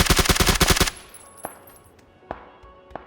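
Automatic gunfire in PUBG, a rapid close burst of about nine shots lasting under a second, followed by a few sparse, fainter single shots in the distance.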